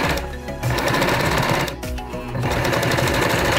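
A sewing machine runs a zigzag stitch on knit fabric for a baby bow headband, whirring steadily and loudly with two brief pauses, and there is no talk.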